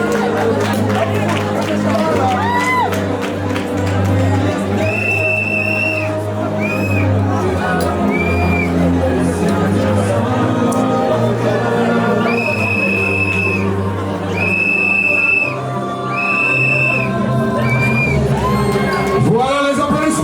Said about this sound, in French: Voilà les applaudissements s'il vous plaît.